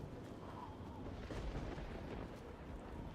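Rolling thunder from a lightning storm in the Oblivion video game, a dense continuous low rumble that swells slightly near the middle and stays steady and fairly loud throughout, with no talking.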